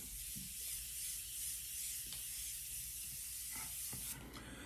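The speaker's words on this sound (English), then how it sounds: "I might have sprayed a little too much" A spray bottle mists liquid onto hair in a steady close hiss, with a few short extra bursts and a sharper spritz near the end.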